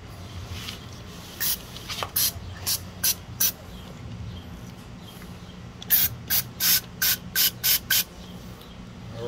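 Spray cleaner hisses in short bursts into the carburetor of an outboard motor, a handful of quick puffs early on and then a faster run of about seven sharp sprays, close and alone.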